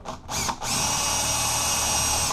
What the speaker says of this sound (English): Drill the hole through our mark and try and get it as straight through as you can